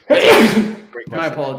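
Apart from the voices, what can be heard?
sneeze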